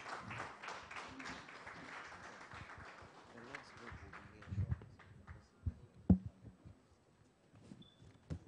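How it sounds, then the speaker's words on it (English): Audience applause at the Broadband Ghana Forum 2017: dense, steady clapping fills the first few seconds, then thins out into scattered claps and room noise. "Please, continue giving them the big clap."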